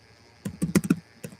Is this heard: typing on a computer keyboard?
yes